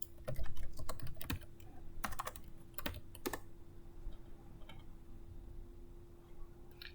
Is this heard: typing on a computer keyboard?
yes